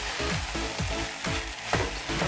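Small omena fish sizzling steadily in a hot pan, a dense continuous frying crackle with no voices.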